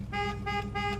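Horn of a 1967 Pontiac GTO with a 4-speed, heard from inside the car: three loud, steady honks at an even pace, each lasting about a quarter second, with an engine running underneath.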